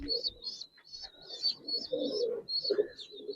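Giribaz pigeons in a loft give soft, low cooing phrases in short repeated bursts, with higher chirping notes above them, close and fairly quiet.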